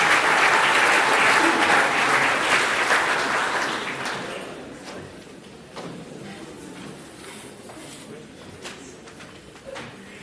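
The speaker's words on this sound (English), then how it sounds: "One more round of applause for our winners" An awards-night audience applauds the winners, a loud full round of clapping that thins out after a few seconds into scattered claps and room noise.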